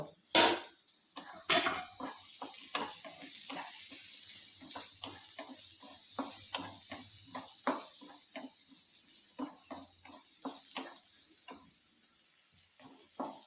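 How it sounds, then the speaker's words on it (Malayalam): Chopped onions and green chillies sautéing in a pan, a steady close sizzle broken by repeated scraping stirs of a spoon against the pan, with no voices. "സവോള കൊത്തി എരിഞ്ഞെടുക്കുന്നത് ഞാൻ ചെയ്യുന്ന രീതിയാണ് കാണിക്കുന്നത്"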